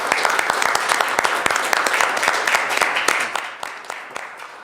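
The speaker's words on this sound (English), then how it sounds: "round of applause from all of us from our fire department" Applause at a Boston City Council meeting honoring the fire department: a room of people clapping steadily with sharp individual claps standing out, then thinning toward the end.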